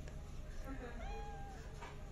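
Cat meowing in Cyberpunk 2077: a faint, short, rising mew heard over steady background game noise, with a voice speaking around it.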